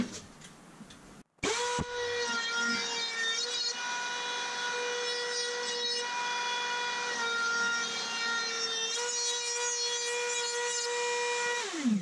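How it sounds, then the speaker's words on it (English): A router spins up and cuts a small rounded chamfer into the edge of wooden circles. After a sharp start it holds a steady, loud, high-pitched whine with harmonics, which shifts slightly as it cuts, and no one speaks. "I'm just going to route a small chamfer, sort of rounded edge, onto these circles to make the front look a bit better."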